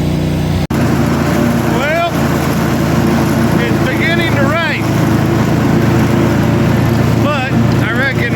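A lawn mower engine drones steadily and close throughout while mowing on a rainy homestead, with a person talking over the constant hum.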